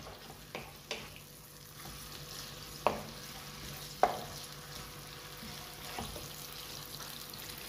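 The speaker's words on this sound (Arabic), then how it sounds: "نحركوها شويه هكذا، نبقاو نحركوها شويه على ما تهبط شويه البصله" Onion fries quietly in a pan as it is stirred, a faint sizzle under a low hum, broken by a few sharp clinks of the utensil against the pan.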